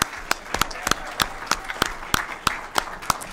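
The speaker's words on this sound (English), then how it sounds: "Let's give her a big round of applause." Applause at a Federal Way city council regular meeting: a run of sharp, evenly spaced claps, steady and moderately loud in a quiet room, with a faint background murmur.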